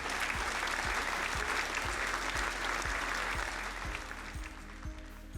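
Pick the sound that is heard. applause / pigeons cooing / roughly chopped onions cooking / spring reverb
applause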